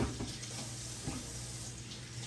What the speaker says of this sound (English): I just poured some of the excess buttermilk off